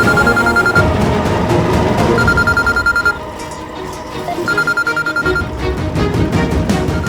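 A loud phone ring chimes in repeated bursts, pausing briefly in the middle before starting again.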